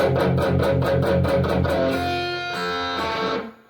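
Distorted electric guitar chugs through a run of rapid, evenly spaced palm-muted power chords, then lets a chord ring out before it cuts off, loud and close with no voice.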